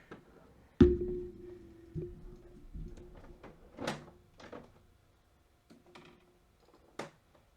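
The front door of a plastic Castle Greyskull toy is worked open with a sharp click, then a string of light plastic creaks, taps and snaps, close and quiet in a still room.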